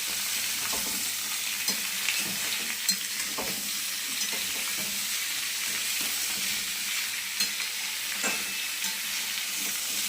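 Spinach for a vegetarian dish fries in a pan with a continuous bright sizzle, close and steady, broken by occasional soft scrapes and clinks as it is stirred.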